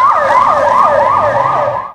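A loud, close ambulance siren wails in a fast repeating rising-falling pattern, about four cycles, then cuts off abruptly.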